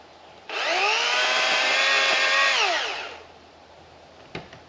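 A Master Force 80 volt MAX cordless chainsaw spins up sharply into a loud, high whine, holds for a few seconds, then winds down, followed by a faint click.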